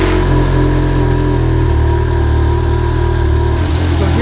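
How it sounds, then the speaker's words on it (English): A Ferrari F430 engine on a cold start with cracked exhaust headers, idling loud and close in a steady, dense rumble that shifts slightly near the end. "So hear that very distinct ticking?"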